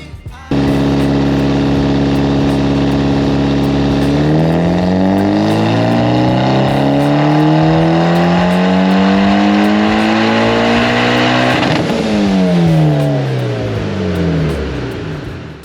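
A bolt-on Mitsubishi Evo X running 91 octane revs hard through a dyno pull, its loud engine note climbing steadily in pitch, easing briefly, then rising again before tapering off near the end.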